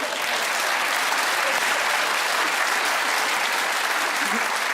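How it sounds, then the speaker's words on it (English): A television studio audience at a comedy panel show gives dense, sustained applause that stays steady and loud throughout. "let's go back to why the audience applauded"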